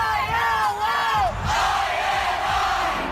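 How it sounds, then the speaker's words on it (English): Roaring college football crowd in a packed stadium, sustained loud cheering and shouting with rising whoops, dense and continuous throughout. "the crowd going wild"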